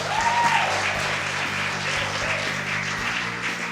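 A room full of people at a teacher town hall in Birmingham claps steadily, a dense wash of applause with a few faint voices rising beneath it.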